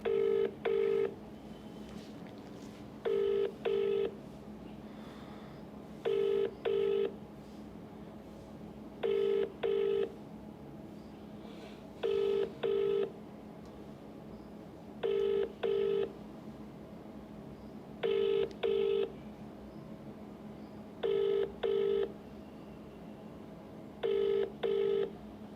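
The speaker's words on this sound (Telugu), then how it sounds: "అద్దంకి దయాకర్కి ఫోన్ చేద్దాం ఒకసారి." A phone call rings out on the line, with nine evenly spaced double-pulse ringback tones about three seconds apart over a low hum and no answer.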